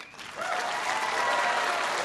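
Applause from the audience at a university town hall on college affordability swells after a brief quieter start into a steady, dense roar of clapping that carries on evenly to the end.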